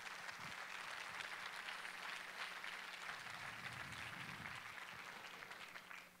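A church congregation applauds during a service, a steady, dense patter of many hands that holds evenly before fading at the end, heard faintly and somewhat distant.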